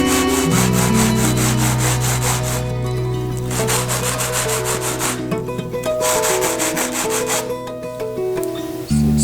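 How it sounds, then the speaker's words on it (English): A fretboard edge on an 18-string harp guitar is ground down to a bevel, giving loud, rhythmic rasping strokes of abrasive on wood in back-and-forth bursts, with a steady low hum underneath throughout. "Starting to grind that down."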